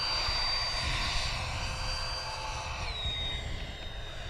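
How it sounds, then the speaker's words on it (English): A Freewing F-18 90mm electric ducted-fan RC jet roars past at speed over a grass field, a loud whining turbine-like rush with a pitch drop as it peels away into a steep turn. "Steve, I'll bring it by you fast. I'll peel away into a steep turn here with it"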